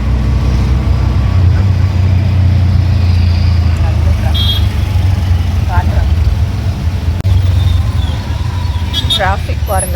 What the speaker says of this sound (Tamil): டிராஃபிக் பாருங்கள் பயங்கரமாக இருக்குது.